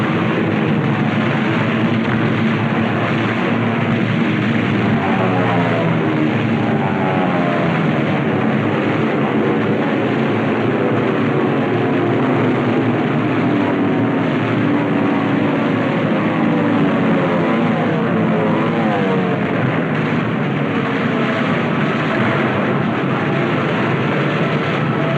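WWII carrier-based propeller planes fly over the USS Yorktown during the strike on Truk, making a loud, continuous engine drone that rises and falls as the aircraft pass, with no voices.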